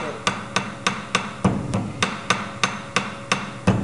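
A hammer bending a metal angle bracket 90 degrees in a vise strikes in an even, close rhythm, about a dozen sharp ringing blows spaced roughly a quarter second apart.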